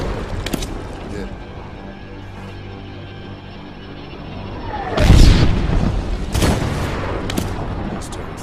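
Artillery fire in the Medal of Honor video game booms out as a few heavy, loud blasts in the second half, one big impact followed by another, with voices talking over the battlefield noise.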